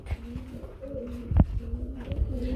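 Pigeons of breeds such as Bombay and Modena coo nearby at a farm, with several soft, repeated low coos and a faint flutter, no speech.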